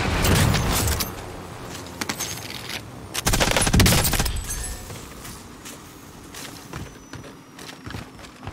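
Gunfire from a video game gun in a shooter match, with loud bursts of rapid shots in separate volleys and sharp single cracks between quieter gaps.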